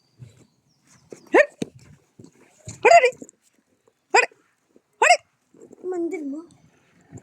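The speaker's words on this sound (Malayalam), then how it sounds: "ഇവിടെ പട്ടി ഉണ്ട്." A dog by the roadside gives a few sharp, separate barks spaced over several seconds, fairly close, mixed in with people talking nearby.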